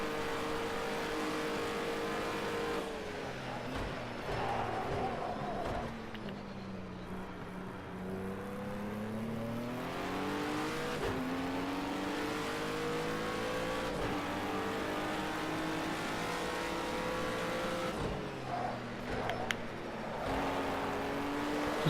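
Race car engine in a racing video game drones steadily throughout, rising and falling in pitch as it accelerates, shifts and brakes through corners, loud and continuous with no talk over it.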